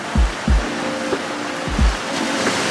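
Ocean waves break on a Miami shore in a steady, noisy wash of surf. Several deeper low thuds of water hit at irregular intervals, and no voices are heard.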